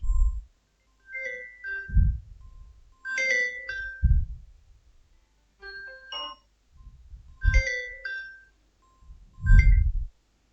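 An Android phone ringtone plays a repeating electronic melody of bright chiming tones, several phrases separated by short gaps with light low thumps under some notes.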